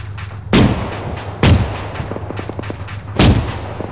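Heavy gunfire in the Arma 3 military game, three loud sharp booming shots at roughly even intervals over a steady low rumble, with fainter rapid distant shots between them.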